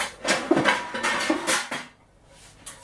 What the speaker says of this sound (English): let's get the old trusty frying pan